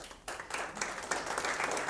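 A conference audience at a Debian talk claps steadily, building from a faint start into a dense, moderately close round of applause.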